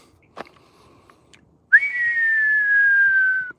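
A person whistles an imitation of a red-tailed hawk call during a nature walk in a serpentine grassland park: one long, steady, slightly descending whistled note, close and clear, after a few faint short sounds.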